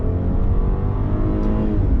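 Genesis G80 luxury sedan with a V6 engine accelerating hard, a steady, loud low engine drone with rising harmonics, heard from inside without talk.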